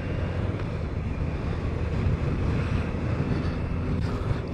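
Steady wind roar buffets the rider on a BMW K1200RS motorcycle on a cold, windy road, a dense continuous rush with a low engine drone underneath.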